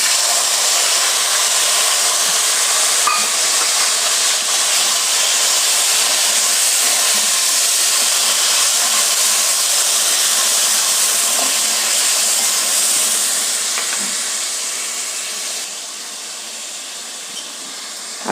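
Shahi jeera, curry leaves and tomato sizzle in hot oil with a loud, steady broadband hiss that holds for a long stretch and then softens near the end, with no voices over it.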